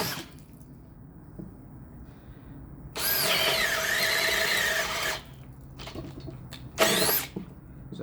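A power drill bores with a 1-inch Irwin bit, a loud whining burst of about two seconds with the pitch sagging under load, then a second short burst, alone and close.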